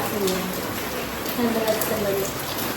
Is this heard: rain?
yes